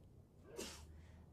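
A single sharp sneeze bursts out briefly against a quiet background, with no talking around it.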